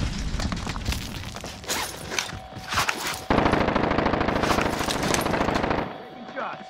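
Dense automatic gunfire in a Call of Duty match, rapid bursts rattling continuously for several seconds alongside game voice lines and radio chatter.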